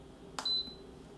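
A single short electronic beep from an Instant Pot Duo Evo Plus pressure cooker, clear and close, sounding once over a quiet room background.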